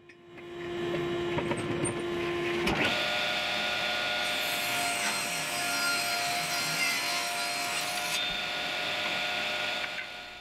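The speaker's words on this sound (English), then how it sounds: "I first start by cutting the piece to a length of 36 inches and ripping off the part of the piece with the groove already cut" A power saw spins up and cuts maple wood to a 36-inch length and rips it lengthwise for a brewing mash paddle, giving a loud, steady whine and cutting rasp that lasts several seconds after a quieter motor hum.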